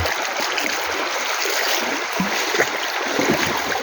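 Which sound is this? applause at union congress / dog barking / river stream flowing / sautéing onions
river stream flowing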